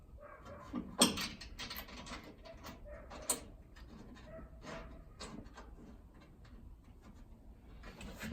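Ratchet wrench tightening a nut on Jeep winch mounting bolts, quiet and close, a run of small clicks and mechanical rattles with a couple of sharper knocks.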